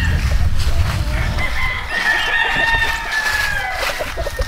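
Roosters crow on a game fowl breeding farm in Missouri, with several overlapping drawn-out crows, close and loud, over clucking and general farmyard background.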